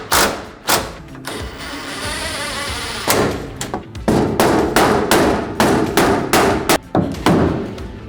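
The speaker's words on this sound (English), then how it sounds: "I find it's helpful to use a rubber mallet and just a block of wood" Sharp rubber mallet blows tap a Holman partition into place inside a Ford Transit Connect van, landing as a string of separate knocks after a stretch of steady rustling, some coming in quick pairs and clusters, close and fairly loud.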